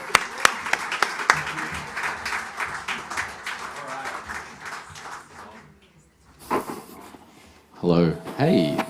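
Investor event audience clapping for a speaker, a dense close burst of applause that thins out over several seconds, with a voice talking over and after it.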